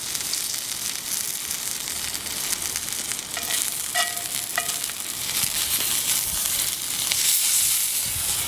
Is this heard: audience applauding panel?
no